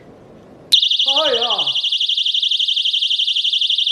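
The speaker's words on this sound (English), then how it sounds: "there will just be an alarm sounding" A personal self-defense keychain alarm is triggered and blares a loud, continuous, rapidly warbling high-pitched shriek, with a brief exclamation from a person just as it starts.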